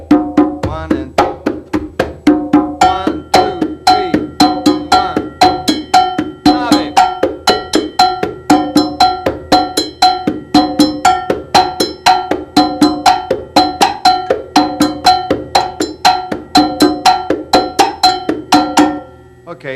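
A percussion trio of conga, a bracket-mounted cowbell and a foot-played instrument plays a steady groove, with bright cowbell strikes repeating in tight rhythm over drum tones, up close and continuous.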